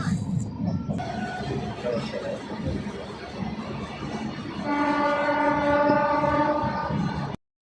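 An Indian express passenger train with new LHB coaches runs at speed, giving a loud, continuous rail roar with wheel rumble, and a sustained horn blast sounds in the second half before the sound cuts off.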